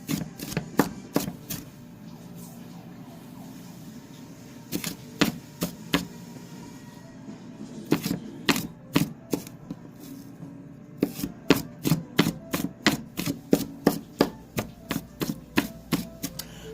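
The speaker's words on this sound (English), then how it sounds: "Come back through and just kind of rock your knife, dice it up." A kitchen knife rocks through potatoes on a cutting board, tapping out quick, crisp knocks in short bursts with brief pauses between runs, close and clear over a faint background hum.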